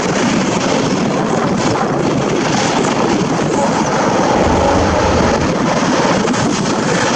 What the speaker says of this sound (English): Helicopters, of course, making a very low approach to stay out of the view of any possible attacking forces